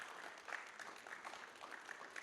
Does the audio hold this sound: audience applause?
yes